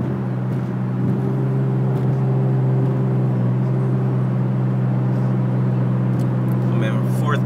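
Chevrolet Camaro RS engine pulling steadily in fourth gear up a hill, a continuous low droning hum with road noise throughout, recorded from inside the car.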